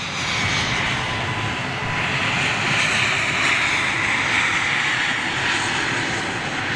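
A large aircraft at London Gatwick airport roars continuously with a broad, steady engine rush that swells slightly midway, heard from a moderate distance without talk.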